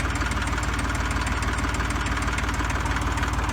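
An old Fordson tractor engine idles nearby, a steady low chugging with evenly spaced knocking pulses and a rough mechanical rattle, continuous and unbroken with no talking.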